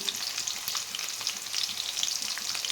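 Onions frying with shahjeera, cloves, cinnamon and green chillies in a pan: a dense, continuous hiss of crackling oil, close and steady throughout.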